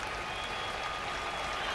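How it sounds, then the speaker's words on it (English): A baseball crowd at a Mariners home game rising and applauding the starting pitcher as he leaves, a steady, dense roar of clapping and cheering throughout, with faint talk mixed in. "Now this crowd rising to its feet."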